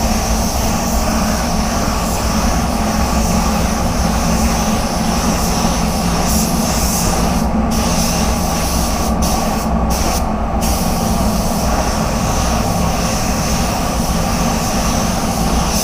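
A paint spray gun coating a car bumper on an Audi A4, a loud steady close-up hiss of compressed air and atomised paint running throughout, with a few brief cut-outs.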